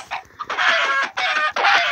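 A chicken in Minecraft clucks in short repeated bursts, loud and close, with no talk over it.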